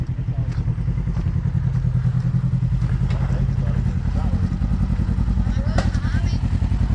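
Dirt bike ridden along a trail at Windrock, its engine droning steadily and loud throughout with rhythmic pulsing and occasional clatter, while people talk over it.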